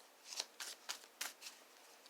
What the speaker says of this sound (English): a good shuffle like this.